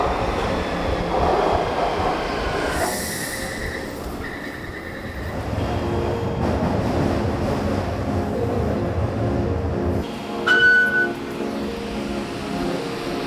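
A Taipei metro train on the red line rumbles steadily from inside the carriage, with a continuous low roar, brief tonal chimes and a rise in noise near the end.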